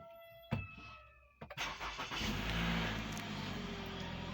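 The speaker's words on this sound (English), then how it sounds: "Now let me start this car, which has parked for long" A car that has sat parked for a long time cranks over with a couple of starter bursts, catches and settles into a steady, fairly quiet idle.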